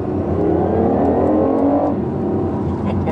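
A BMW i8 in sport mode revs hard at close range, a loud, dense engine roar that holds steady throughout with a slight rise in pitch and no talk.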